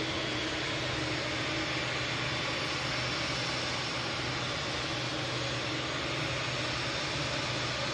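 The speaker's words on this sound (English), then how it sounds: "Brussels A320neo, the new one, in a nice livery." Brussels Airlines Airbus A320neo jet at Manchester Airport, a steady broadband engine roar holding for the whole stretch with no gaps, fairly loud and continuous, with no talking over it.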